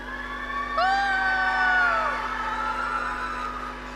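Audience at the Mr & Mrs KNA pageant cheering for thirteen contestants: a burst of crowd cheering with high whoops and shouts that swells, holds for about a second, then fades into a lingering murmur.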